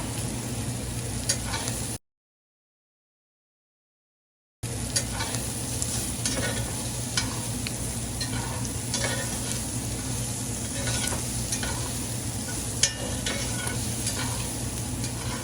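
Diced onion sizzling in olive oil in a pan, a steady close-up frying hiss that runs throughout, broken by a brief silent gap and marked by occasional light stirring scrapes.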